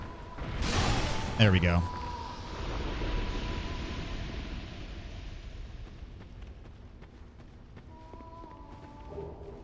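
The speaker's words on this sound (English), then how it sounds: "This is gonna blow up." A fire-seed explosion goes off in Dark Souls 2: Scholar of the First Sin at the Shrine of Amana, a loud broadband burst that fades into a rumbling tail while someone speaks briefly.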